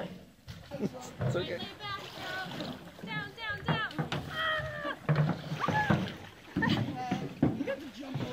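A canoe is paddled on the Little Manatee River, with soft strokes and splashes heard under frequent children's and adults' voices talking nearby.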